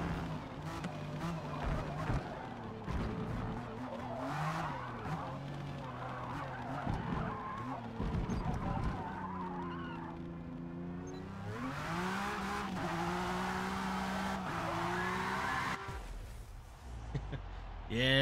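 Porsche spinning donuts in a racing video game, a steady engine drone with sweeping pitch and continuous tire skidding and squeal, loud and close throughout with a voice talking over it.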